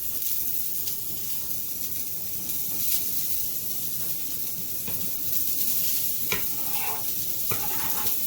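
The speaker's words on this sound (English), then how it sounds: "I got my other skillet there going for our sausage." Breakfast sausage fries in a skillet with a steady close sizzle and hiss, joined by a few clinks and scrapes of a utensil near the end.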